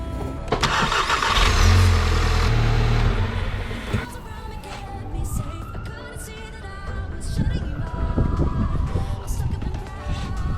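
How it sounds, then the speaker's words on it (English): A car engine cranks and catches, then settles into a steady running rumble with some revving, voices faintly in the background, during an engine oil and filter change with Royal Purple 5W-40. "Started an engine."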